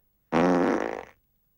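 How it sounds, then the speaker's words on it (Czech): A standard everyday fart sound effect, one loud sustained blast of about a second that flutters and trails off, heard alone with no talk. "Standardní každodenní prd."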